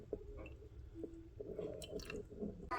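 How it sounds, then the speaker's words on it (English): Buttermilk poured into a mason jar while making homemade butter, giving soft wet squishing and dripping sounds, faint and close, with small splashes and no talking. "I'm just going to pour it in this mason jar to save the buttermilk"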